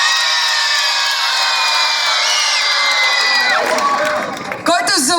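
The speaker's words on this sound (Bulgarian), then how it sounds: "Който е за момичето да вдигне шум сега?" A concert crowd at an outdoor family festival in a town square shouts and cheers loudly and steadily, with children's voices and whoops in the mix, then thins out as a voice talks near the end.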